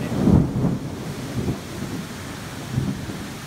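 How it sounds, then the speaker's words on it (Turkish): Low rumbling thunder rolls in several pulses over a steady hiss of heavy monsoon rain in China. "Bu bildiğim musonun muson yağmuru."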